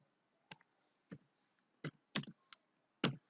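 Separate key presses on a computer keyboard as a word is typed into a Photoshop name field, six crisp clicks spaced irregularly over a few seconds, close and fairly quiet, with no talk.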